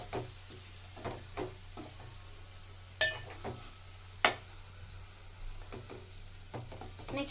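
Food fries in a pan under a quiet steady sizzle while a spoon stirs it in slow scraping strokes, with two sharp metallic clinks against the pan.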